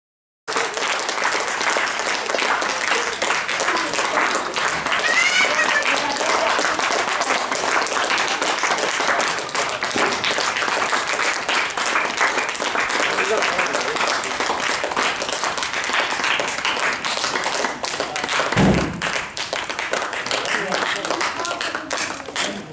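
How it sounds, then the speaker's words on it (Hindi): Neighbours in a residential lane clap steadily to welcome returning men, sustained loud applause from a crowd with voices mixed in, continuing throughout. "मोहल्ले वासियों ने तालियां बजाते हुए और पुष्प वर्षा कर इनका स्वागत किया"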